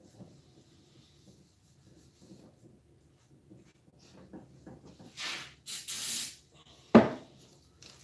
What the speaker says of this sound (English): it's just scratchy enough to help smooth this out with some carburetor cleaner